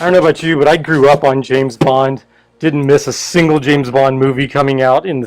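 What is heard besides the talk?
No distinct noise like a dog, phone or traffic.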